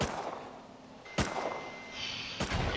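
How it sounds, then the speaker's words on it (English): Two sharp, loud rocket launches or blasts fire in a raid video game, spaced about a second apart, each a broadband burst with a brief tail over a steady game background. "It can't just be Desi there, like, shooting rockets."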